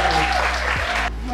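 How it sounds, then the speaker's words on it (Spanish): Brief applause greets a journalist being introduced at a talk on cross-border journalism in Tijuana and San Diego, a dense burst of clapping with a faint tonal hum beneath, stopping abruptly after about a second. "Pues démosle un fuerte aplauso."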